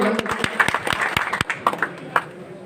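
A crowd at a BJP election rally claps in brisk, uneven bursts, moderately loud, mixed with murmuring voices.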